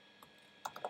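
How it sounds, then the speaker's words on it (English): Typing on a computer keyboard while setting up code: one soft keystroke followed by a quick run of three sharper clicks, close and quiet, no talk. "So let's type that in."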